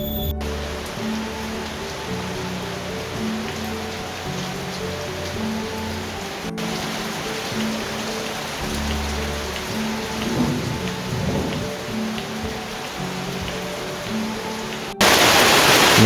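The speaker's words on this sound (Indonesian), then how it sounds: "ini malah hujan ya" Steady rain falls over a village in Central Java, dense and close on surfaces, with a low rumble of thunder and a sudden surge of heavier downpour at the end.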